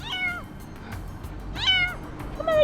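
A kitten meows in three separate high, wavering cries while falling from a tree during an animal rescue, each call clear and close against low rumbling background noise.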